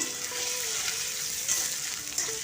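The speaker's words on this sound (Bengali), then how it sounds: "সয়াবিনটা হালকা ভেজে নেব" Soybean chunks frying steadily in mustard oil, a dense, even sizzle with faint crackles throughout and no talk.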